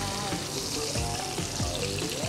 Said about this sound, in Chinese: 慢火煎一嚟就可以慢慢煎到個皮脆啦，啲油逼佢出嚟啦